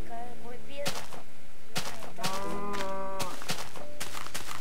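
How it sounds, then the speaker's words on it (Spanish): Cows mooing in the video game Minecraft, several drawn-out lowing calls in a row mixed with sharp clicking impacts, fairly close and without speech. "No veo el sol, solo oigo vacas."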